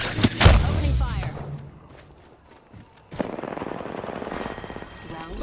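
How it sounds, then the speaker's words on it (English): Heavy automatic gunfire in the video game Apex Legends, a loud close burst at first, then a pause, then a second sustained rattling stretch of shots with a faint voice beneath. "Opening fire."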